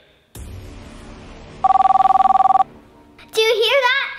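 A mobile phone rings under a bed with one steady electronic trill lasting about a second, set between a thud and a burst of high, squeaky speech, loud and close.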